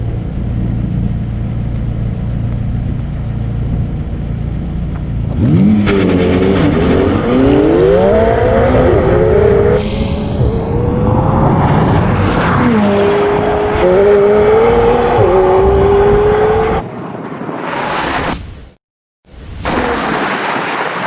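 A Porsche Taycan Turbo S electric car and a McLaren 720S Spider supercar drag race, engines roaring and revving as they accelerate hard, with rising and falling pitch as they pass, then a sharp cut and a whooshing burst.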